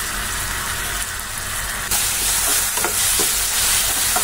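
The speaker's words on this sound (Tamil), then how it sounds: "தக்காளி மேஷ் பண்ணி வச்சதை அப்படியே இது கூட ஜாயின் பண்ணிக்கோங்க" Mashed tomato paste goes into sizzling paneer masala and gets stirred, a loud close frying hiss that jumps brighter midway, with soft scraping strokes of the spoon beneath.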